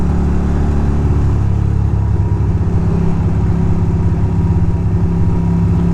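Yamaha Monster 620 motorcycle engine revving hard in gear on a spring ride through New York City, a loud, continuous close-up engine roar with a steady throbbing pulse throughout.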